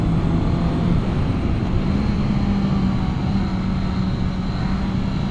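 A 2021 Honda CB650R with its 650cc inline-four engine drones steadily while being ridden, a loud, continuous hum mixed with wind rush and no speech.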